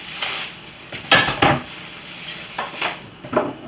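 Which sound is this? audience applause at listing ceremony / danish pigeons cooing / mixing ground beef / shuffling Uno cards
mixing ground beef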